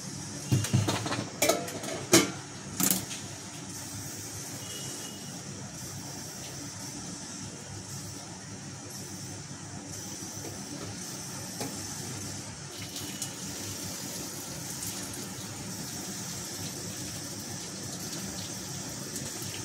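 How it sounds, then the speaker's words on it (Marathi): Starch water is poured off a pot of freshly cooked rice, opening with a few sharp knocks and clatters of the pot and lid, then a soft, steady trickling pour that continues without talk. "तसंच आपला भात पण शिजून झालाय, पाणी काढून घेते."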